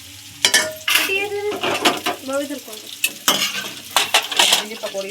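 Pakoras frying in hot oil in a home kitchen, with steady sizzle under repeated stirring, scraping and clinking of a pan and utensils, close and fairly loud.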